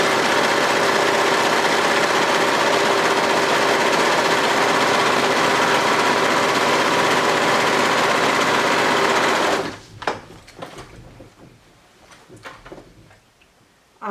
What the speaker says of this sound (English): I'm going to be doing all the steps on my serger today